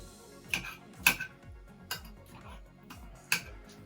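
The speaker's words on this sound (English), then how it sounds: "You just break it up with a spoon." A spoon breaking up tender leftover vegan beef, making light clicks and taps against the dish, several spaced knocks, close up with no talking.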